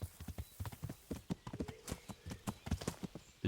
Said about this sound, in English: Hello, horse?